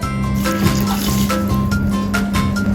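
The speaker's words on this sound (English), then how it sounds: "Add water." Water pours steadily into a rice cooker pot, a continuous trickling and splashing under a low background hum, with no talking.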